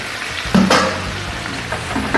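Amla, Indian gooseberries, frying with spices in a pan for a quick spicy pickle, giving a steady close sizzle with a few soft stirring clatters and no voices.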